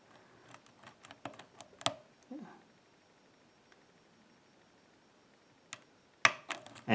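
A steel ABLE INOX SPRINGS padlock with serrated and spool pins is picked, making faint, sparse metallic ticks and clicks in short bursts with quiet gaps between them. A louder cluster of clicks comes near the end.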